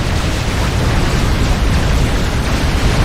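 A bomb blast in the real-time strategy game Supreme Commander: Forged Alliance, a loud, dense roaring rumble that fills the whole stretch without pause.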